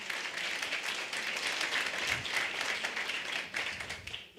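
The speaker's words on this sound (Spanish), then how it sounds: "Un aplauso para Joana." A crowd at a revival prayer gathering gives Joana sustained, fairly loud applause, a continuous wash of many hands clapping throughout with slight surges and dips.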